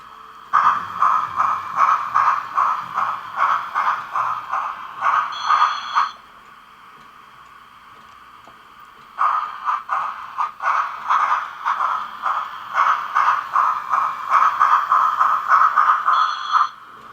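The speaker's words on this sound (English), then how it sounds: "What I want to do is see if I can get the brake sound again." Sound-decoder brake effect from an MRC 1911 decoder in a Mantua 2-6-6-2 model locomotive, a loud rapid mechanical ratcheting screech in two long bursts separated by a quiet pause, with no talk.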